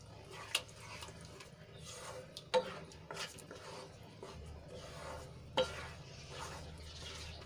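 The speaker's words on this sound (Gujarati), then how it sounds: "અને ગ્રેવીમાં સરસ રીતે મિક્સ કરી લઈશું." Boiled dried val beans are stirred into gravy in a pan, soft wet squelching and a few sharp spoon knocks against the pan over a faint simmer, quiet and close, no talking.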